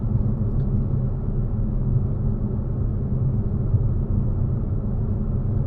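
Toyota Aygo X with a three-cylinder engine cruising at a steady 40 mph on a town road, heard from inside as a constant low engine and road rumble without talk.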